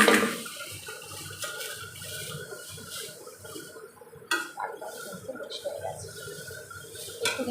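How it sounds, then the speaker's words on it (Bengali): Boiled lentils are poured into a cooking pot for a Bengali shukto, giving a soft wet splash and some clattering of pot and utensil under a voice speaking nearby. "এবার কিন্তু সিদ্ধ করে রাখা ডালটা দিয়ে দেবো।"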